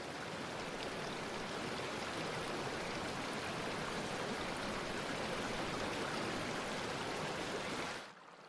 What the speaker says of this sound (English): It flows off the hills as small streams and is carried back into the fjord.